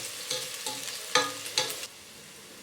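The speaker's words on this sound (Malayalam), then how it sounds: "സവാള ഇട്ടതിന് ശേഷം സ്റ്റവ് ഒരു മീഡിയം ഫ്ലെയിമിൽ വെച്ച് നന്നായിട്ട് വറുത്തെടുക്കണം" Sliced onions frying in ghee on a medium flame for chicken biryani, a close sizzle broken by four or five sharp spatula stirs before settling to a quieter steady fry.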